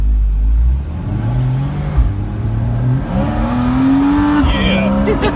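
A 2015 Porsche Boxster S in sport mode accelerating hard, its engine note rising through gears with brief dips between shifts, loud and close from inside the car.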